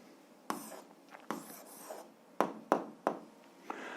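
A pen scratches out an answer on paper during a 7th-grade algebra lesson, several short, crisp writing strokes in quick bursts, close and fairly quiet, with no talking.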